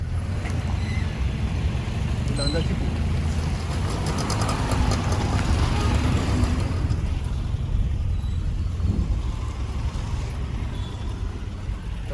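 Road traffic rumbles along the Mumbai–Goa highway near Lanja, where road and bridge work is under way, heard from inside a moving vehicle as a constant loud engine and tyre drone with occasional passing vehicles.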